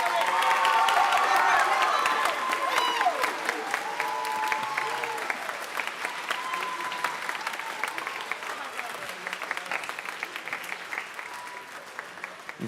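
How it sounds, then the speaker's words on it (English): Audience applause at a spring student concert, a loud, dense round of clapping with scattered cheers and whoops that gradually thins over about twelve seconds, with some voices mixed in. "let's give them a round of applause"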